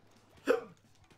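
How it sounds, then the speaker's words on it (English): A single sharp, loud hiccup from a person playing Splatoon, a brief burst standing alone against a quiet background. "I have the hiccups and I fell off."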